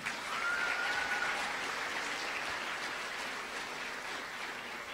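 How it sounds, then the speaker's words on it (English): Audience applause for a local man from Wagga Wagga who placed fifth in Germany at the world titles, a steady crowd clapping that holds at an even level for several seconds, with a faint tonal whistle early on. "How about you give him a round of applause, everyone?"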